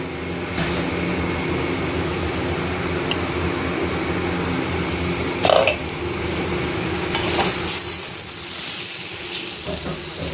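French beans sabji frying in a pan over a low gas flame, with a steady soft sizzle and occasional scraping stirs throughout, close and continuous.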